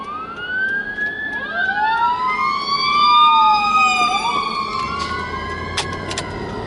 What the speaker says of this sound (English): if there's a fire engine going with lots of lights